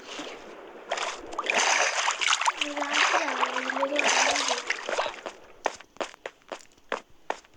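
Splashing footsteps through water in the Minecraft video game, a dense run of wet steps followed by several separate sharp splashes near the end, with a faint tonal game sound partway through.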